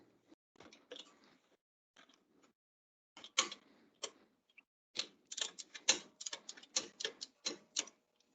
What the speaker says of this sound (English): Got my torque wrench here.